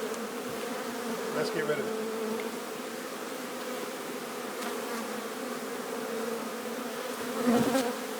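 Honey bees buzz steadily around an open hive during a late-season inspection in Newfoundland, a dense continuous drone with brief louder passes close by, while a person speaks briefly over it.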